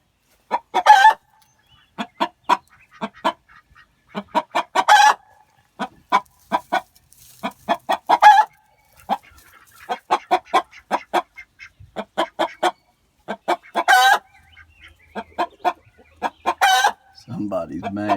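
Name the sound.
hen clucking near her nest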